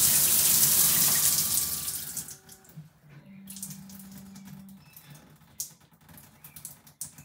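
Water pours loudly from an Aqualisa shower for about two seconds, then cuts off. A steady electronic beep sounds from the unit, followed by quiet clicks and faint rustling.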